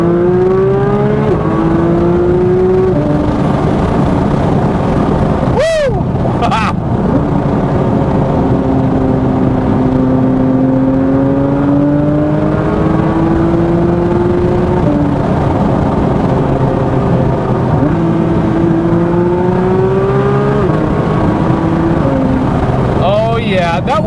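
Porsche 992 GT3 RS engine heard from inside the car, loud sustained revving with rising pitch sweeps through the gears and short sharp shift breaks, constant and close throughout.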